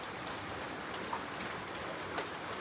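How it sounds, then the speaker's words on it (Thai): Steady rain falling in rural Laos, a constant soft hiss of drops on surfaces heard up close, with a couple of brief louder drips and no talk. "ทุกคนนี่ฝนตกยังไม่หยุดเลย"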